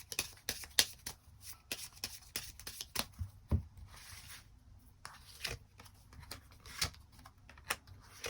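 Tarot cards shuffled and drawn by hand in a run of crisp, close flicks and slaps, some quick and clustered, others spaced apart, over quiet room tone with no speech.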